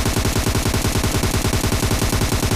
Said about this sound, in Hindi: फायरिंग भी चल रही है